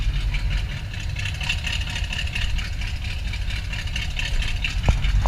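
A truck engine runs steadily in gear, a continuous low idling rumble heard up close with no talk, ending in a brief sharp knock.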